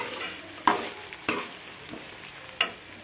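Onions fry in a pan with a steady sizzle, broken by a few scraping stirs of a spatula at irregular intervals, close and clear.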